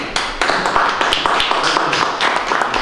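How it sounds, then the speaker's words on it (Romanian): Applause at a Romanian national poetry criticism festival: a steady run of hand claps from a small audience, close and fairly loud, with scattered individual claps standing out. "Chiar de aplaud!"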